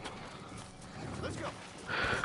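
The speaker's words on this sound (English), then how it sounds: "Oh wait, my horse is right there." A horse in the Red Dead Redemption video game, with soft hoof clip-clops faint under steady talk and a brief snort or whinny-like cry near the end.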